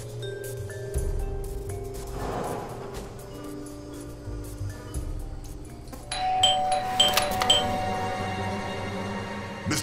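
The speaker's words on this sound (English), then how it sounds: "I thought I should use the doorbell so I wouldn't startle you." A doorbell chime rings inside a building in the detective game Blues and Bullets, with a few tonal dings standing out over steady background game music.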